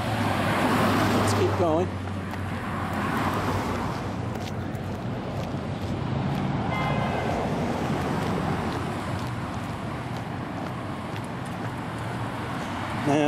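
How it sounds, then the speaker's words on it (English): Cars drive in and out along Hawes Ave, a suburban road in Leominster, their steady traffic rumble and wind-blown hiss filling the background while a person speaks briefly nearby. "Now this road over here that you see cars coming in and out of is Hawes Ave."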